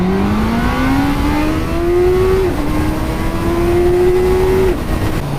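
Honda CB1000R naked motorcycle, 2019 model, accelerating hard in a long first gear, its engine note climbing steadily, dipping briefly at a shift-like break, then rising again, loud and close with no talk.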